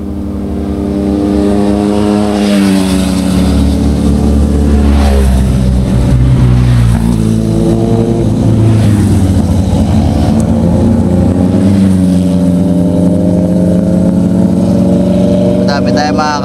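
A motorcycle engine runs loudly and steadily, its pitch rising and falling with the throttle, with a faint rattling from the center stand mixed into the drone.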